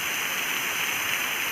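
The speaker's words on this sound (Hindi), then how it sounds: "ऐसा लग रहा है आसमान से पानी गिर रहा है।" Steady, dense roar of falling water at the Dedaudy waterfall in Dima Hasao, heard close and continuous with no voices.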